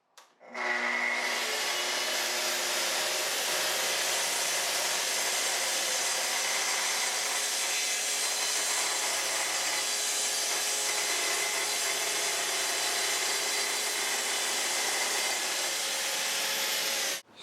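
A Festool TS-55R track saw cuts through 18 mm plywood, its motor spinning up sharply and holding a loud, steady whine and rasp for over fifteen seconds before stopping, close and alone.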